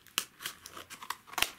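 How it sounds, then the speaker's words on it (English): Scissors snip through toy packaging in a series of quick, close cuts with crinkling plastic between them, a sharp louder snip near the end, no talking. "No, I'm going to use the scissors."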